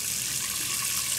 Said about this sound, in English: now it's time to drain the pasta